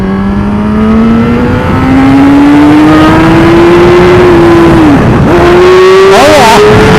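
A car engine revs hard and climbs steadily in pitch during a clutch-up wheelie, loud and close, then dips sharply as the clutch kicks before surging again, with a brief tyre-like squeal near the end.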